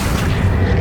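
Accio summoning spell cast in the video game Hogwarts Legacy: a brief, loud, low whooshing boom heard up close, with no voices.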